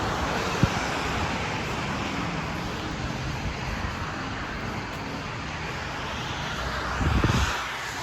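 Steady roar of road traffic from cars, a constant wash of noise outdoors, with one vehicle swelling louder near the end.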